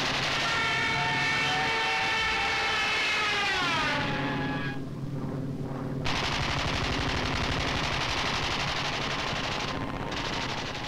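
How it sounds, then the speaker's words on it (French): Wartime B-26 bombers and fighter planes attacking hillside positions in thick jungle, a continuous loud roar of aircraft engines with rapid machine-gun fire running through it, briefly thinning midway before resuming at full strength. "Les chasseurs Birkat et les bombardiers B-26 protègent les parachutages et attaquent les éléments Viet Minh réfugiés sur les collines proches"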